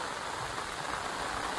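Heavy monsoon rain pouring down in the Konkan countryside, a dense, steady hiss of falling water filling the short stretch with no voices.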